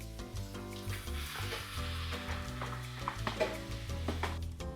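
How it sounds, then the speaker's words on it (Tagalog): Vegetables and onion for sumpia sautéing in a pan, a constant close sizzle broken by repeated scraping stir strokes, with no talk heard. "Tapos pag medyo ano na, nagisa na yung sibuyas,"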